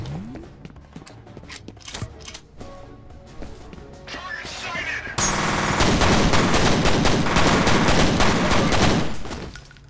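Gunfire in the video game F.E.A.R., scattered single shots at first, then a dense, loud burst of rapid automatic fire that runs for several seconds, with someone talking over the game at times.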